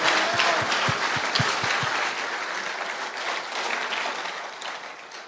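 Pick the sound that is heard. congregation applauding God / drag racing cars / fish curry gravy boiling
congregation applauding God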